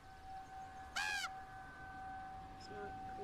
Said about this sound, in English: The crow that symbolizes death.